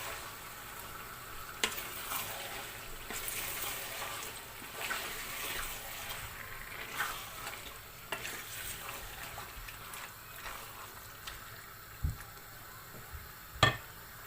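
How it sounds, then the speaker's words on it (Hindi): Spices frying in hot oil for chicken biryani, a steady sizzle with the scrape and clatter of a spoon stirring the pan, a few sharper knocks near the end. "अब हम इसे हिला लेंगे।"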